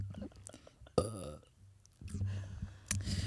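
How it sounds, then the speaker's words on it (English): A single deep, rattling burp erupts loudly near the microphone, followed by faint mouth noises and soft breathy sounds. "I need a burp."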